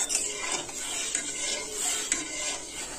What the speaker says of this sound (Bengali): সুজির ডোটা বানানোর জন্য কিন্তু খুব ভালোভাবে এইভাবে নাড়াচাড়া করে সেদ্ধ